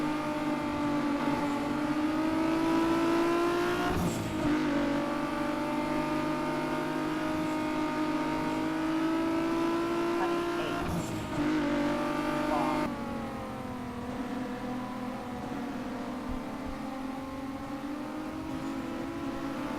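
Race car engines drone and whine around a track, loud and continuous, their pitch rising and dipping as the cars accelerate, with a sharp shift in the sound partway through.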